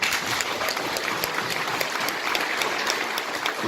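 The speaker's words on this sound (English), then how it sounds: "let's end by actually giving the biggest round of applause" A crowd at a Remembrance service applauds steadily, dense clapping filling the whole stretch with no voices over it.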